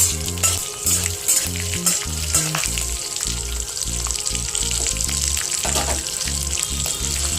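Bottle gourd frying with green chillies in a pan, a loud, steady sizzle with bubbling close up and occasional stirring scrapes throughout, with no talking.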